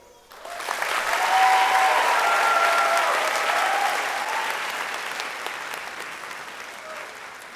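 A graduation-ceremony audience breaks into applause that swells quickly to a full, dense roar of clapping, then slowly thins out over several seconds, with faint crowd murmur underneath.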